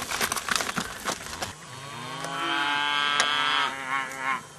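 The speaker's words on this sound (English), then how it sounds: "Bloody main arm cows, I wish they'd never got into my paddock." A cow in a paddock lets out a long, low moo that rises and holds, close by, after some brief scraping and rustling noises.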